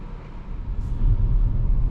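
A 2025 Audi Q5 pulls away in drive, its low engine and road rumble building steadily and growing louder about halfway through, with no one talking.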